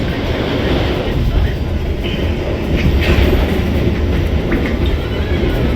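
The new-generation 2023 Argo Dwipangga passenger train, heard from inside while running at about 88 km/h, produces a loud, steady rumble with wheel and track noise throughout.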